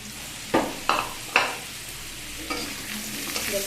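Vegetables are stir-fried in a hot pan under a steady broad sizzle, with three sharp spatula scrapes early on and a few softer stirring knocks later, all close and fairly loud.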